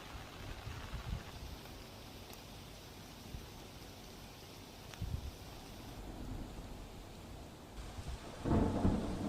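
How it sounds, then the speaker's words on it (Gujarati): Heavy monsoon downpour in Valsad district, a steady hiss of rain with low rolling thunder rumbling several times and swelling louder near the end, no voices. "વલસાડ જિલ્લામાં મેઘરાજા જે મન મૂકીને વરસી રહ્યા છે અને હવે કહેર વર્તાવી રહ્યા છે"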